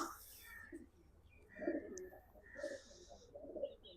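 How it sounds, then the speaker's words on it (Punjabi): A large racing pigeon and other pigeons give soft coos and fluttery calls alongside quiet murmuring voices, with a few faint chirps at a modest distance. "ਇਹ ਆ ਗਿਆ ਬਈ ਜੰਟੇ ਵਾਲਾ ਕਬੂਤਰ ਵੱਡਾ"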